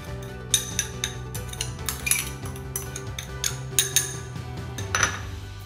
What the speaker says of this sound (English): in a bowl, we're gonna combine the beets, just like that, and the cure mixture, just like so.